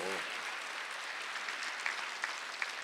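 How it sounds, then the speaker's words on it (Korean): Church congregation applauding during a Sunday worship service, a steady dense wash of clapping filling the whole stretch with a few sharper individual claps standing out near the end. "박수를 하지."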